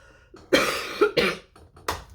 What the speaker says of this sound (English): since I still got the cough going